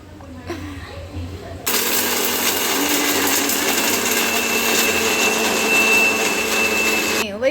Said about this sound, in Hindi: तो अब हम करेंगे इनको मैं पीसेंगे।